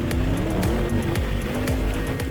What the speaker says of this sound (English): we then drive over the entire patchwork quilt of ice and asphalt with full load acceleration